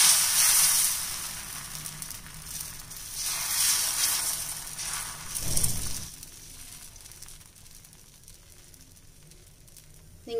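Toor dal dosa batter poured onto a hot, well-heated tawa hisses with a broad, steady sizzle, strongest at the start and fading to a softer crackle toward the end.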